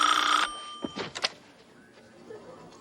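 An office telephone bell rings in one loud burst at the start and then stops. The receiver is picked up and handled with a few thunks, and faint room noise follows.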